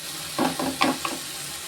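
Tomato and onion sautéing with turmeric and salt in a pan, heard as four short stirring scrapes over a soft steady sizzle, close and moderately quiet.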